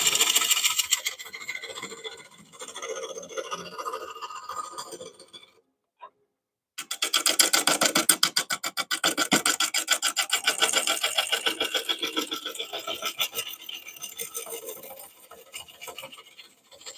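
A scraper rasps steadily against a spinning oak bowl on a wood lathe, the bowl showing surface cracks. The close, loud scratching stops briefly near the middle, then resumes with a fast rhythmic chatter and runs on to the end.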